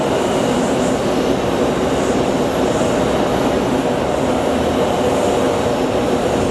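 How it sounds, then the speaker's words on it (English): An American Airlines airliner arriving at Phoenix Sky Harbor from Albuquerque, a loud, steady broadband engine roar that holds constant throughout. "Up next, we're going to get American Airlines 2180 coming in from Albuquerque"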